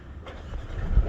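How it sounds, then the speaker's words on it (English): A Mercedes-AMG A 35 engine starting: a brief low rumble that swells into a heavier burst of engine noise at the end, close and fairly quiet. "let's start the engine first."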